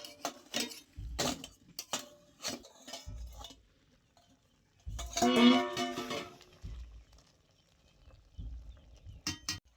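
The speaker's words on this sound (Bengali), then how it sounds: "ঢাকনাটা খুলে দেখে নেব সেদ্ধ হয়েছে কিনা।" Lifting the lid off a wok of steamed cabbage brings scattered metallic clinks and taps, then a longer ringing clatter midway, followed by a few softer knocks.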